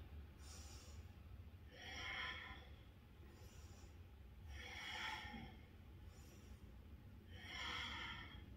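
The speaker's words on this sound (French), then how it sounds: "on va inspirer en faisant frotter l'air dans la gorge et expirer de la même manière en faisant frotter l'air dans la gorge" Ujjayi yoga breathing with air rubbing in the throat, slow hissing inhales and exhales in an even rhythm, close and soft, repeated about four times over a low background hum.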